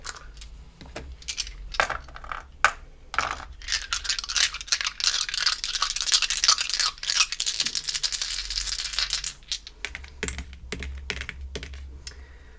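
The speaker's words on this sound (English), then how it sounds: "we're going to roll 5 dice for you today" Five dice rolled together during a card-reading session, producing a long stretch of dense rattling and clattering, preceded and followed by sharp, scattered clicks as they tumble and settle close by.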